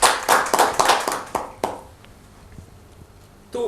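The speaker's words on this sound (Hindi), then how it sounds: "एक बार जोरदार तालियां हो जाए।" Audience applause at a Rajasthan Parishad event, a burst of loud clapping for about two seconds that fades into a few scattered claps, then quiet, with a brief sound rising at the end.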